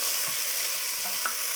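Paella rice stir-frying in a pan makes a dense, continuous hiss with faint scraping from stirring underneath, steady throughout.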